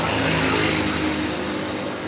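A freshly rebuilt Yamaha RX-King motorcycle with an original YP2 engine block revs hard, its two-stroke engine giving a loud, raspy, continuous buzz close by.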